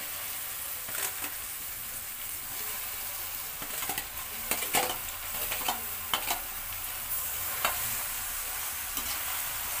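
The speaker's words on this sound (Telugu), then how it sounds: "ఇది ఆయిల్లో వేసిన తర్వాత బాగా పొడి పొడిగా వస్తుంది" Macaroni fries in hot oil with a steady, dense sizzle, punctuated by scraping and stirring clatters of a utensil against the pan throughout.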